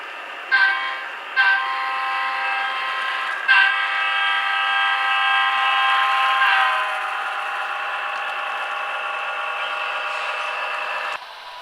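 A model train horn sounds in a few sharp blasts, then holds a long, loud chord before cutting off.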